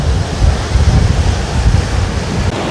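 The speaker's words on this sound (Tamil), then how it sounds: "அலையும் வந்து அப்படி அடித்து கொண்டு இருக்குது." Sea waves on a beach at Mathagal, Jaffna, heard as loud, close, rolling surf mixed with heavy wind buffeting the microphone, continuous throughout with no talk.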